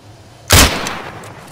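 A single loud rifle shot cracks out in the ArmA 3 video game, a sharp broadband blast followed by a long rolling echo that fades slowly over the next second.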